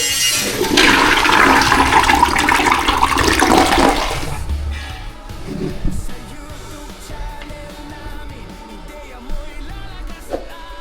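A one-piece water closet toilet flushes during a test, a loud rushing surge of water for about four seconds that then drains away into gurgling and refilling trickles.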